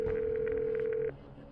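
A telephone line tone hums steadily for about a second as a call is placed, then cuts off abruptly, leaving a quiet line hiss; faint background chatter sits underneath.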